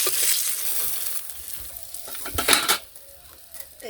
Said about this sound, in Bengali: মাছগুলো ভাজা হচ্ছে নামিয়ে নিই